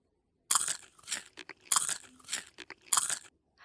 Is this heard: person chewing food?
yes